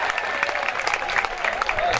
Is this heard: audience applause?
yes